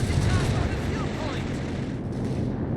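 A Stuka anti-tank air strike in Company of Heroes 3 fills the moment with loud, rumbling gunfire and explosive booms, a continuous barrage with a commentator's voice over it.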